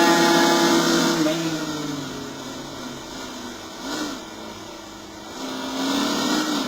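Race car engine in the Riding Spirits 2 racing video game, a steady loud whine with pitch rising and falling as the throttle changes, continuous throughout over broadband game noise.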